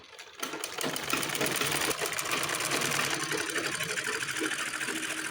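A sewing machine stitches a seam on pajama fabric, running in a steady rapid whir after a brief start, close and continuous.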